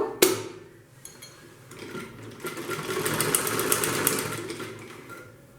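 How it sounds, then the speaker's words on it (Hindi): A sewing machine runs steadily, stitching the lining edge of a fabric handbag. It starts with a sharp click and keeps up a continuous mechanical whir alone. "अब मैं आपको सिलाई करके बताती हूँ"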